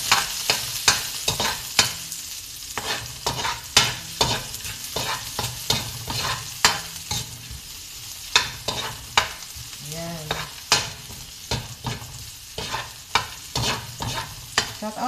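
Garlic sizzles in oil in a pan for a shrimp and vegetable sauté, with frequent sharp scraping stirs of a utensil punctuating a steady frying hiss, close and moderately loud, with no talking.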